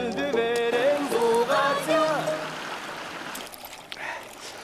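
A cold, slightly salty natural stream runs with a steady, close wash of flowing water, with voices sounding over the first half before the water continues alone.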